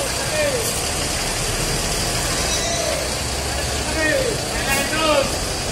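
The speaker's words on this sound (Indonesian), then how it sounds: "pengen sekali saya naik bus dibawa oleh Pak ini, Pak Samsul." An electric bus idles with a steady low rumble while people chatter nearby and faint squeaks come and go.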